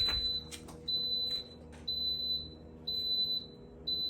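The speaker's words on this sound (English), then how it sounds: "does the beeping mean, oh, it's ready." A sublimation oven beeps in a steady repeating pattern when ready, about four evenly spaced high-pitched tones, each half a second long, in a quiet room.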